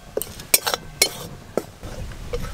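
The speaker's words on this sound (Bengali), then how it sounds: "শুকনো কোড়াতে বেসন একটু ভালো করে নেড়ে নেব।" Gram flour being stirred in a dry kadai with a metal spoon for paneer tikka: several sharp clinks and scrapes of utensil against pan, spaced irregularly and close, then softer scraping.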